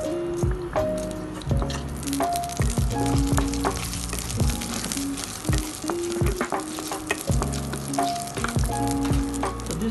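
Cumin and mustard seeds sizzle loudly in hot oil, a dense crackling fry with repeated stirring knocks and squishy bursts throughout, close and without talk.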